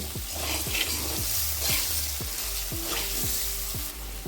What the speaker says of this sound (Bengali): আলুটাকে চার পাঁচ মিনিট একটু ভেজে নিতে হবে